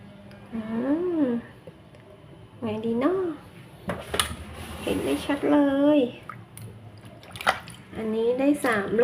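Beans are washed in water in a container, with faint splashing and the clink of the vessel underneath a voice that talks through most of the stretch.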